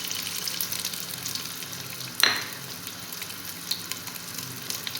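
Chopped onions fry in half a cup of hot oil in a small pot for a dal gosht, a continuous soft sizzle with one sharp splattering burst partway through, no voices present.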